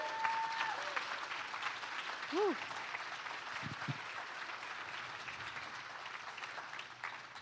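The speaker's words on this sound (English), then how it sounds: "Can we give it a round of applause one more time?" Steady audience applause at a business summit keynote fills the room, broad and continuous, with a brief whoop early on and a few scattered cheers.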